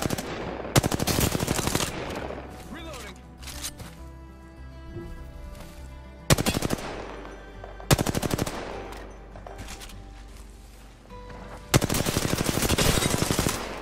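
Apex Legends on PS4: loud, close bursts of automatic gunfire repeat in rapid volleys, with short pauses and echoing shots between them.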